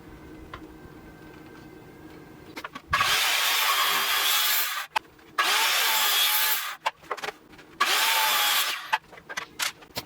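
Hinoki cypress posts for a wooden deck are sawn in three loud, rasping cutting bursts of about two seconds each, separated by short quiet gaps and light handling noises.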